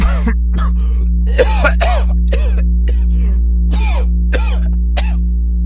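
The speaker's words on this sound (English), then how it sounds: "let out a loud cough as he seemingly choked on his own phlegm" Several loud, harsh coughs and throat-clearing rasps, like choking on phlegm, in irregular bursts over a steady low hum, with no talking.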